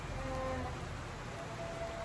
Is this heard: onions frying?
no